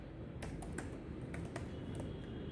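Soft, faint clicks of typing on a computer keyboard, a handful of quick keystrokes spaced irregularly over a low background hum.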